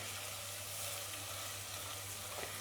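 Pav bhaji being stirred and mixed in a hot pan, a soft continuous sizzle with faint scraping, quiet and close, no voices.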